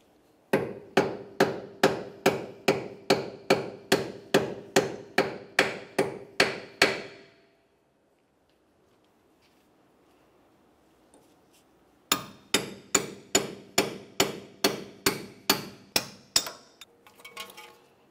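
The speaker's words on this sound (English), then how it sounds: "you can give it a couple loving bonks with a hammer and then finish it off with a punch" A hammer drives a punch to knock out a front ABS wheel speed sensor on a 2001-2005 Ford Explorer Sport Trac, sharp metallic strikes in two rapid, evenly spaced bursts of about fifteen blows each, separated by a quiet pause.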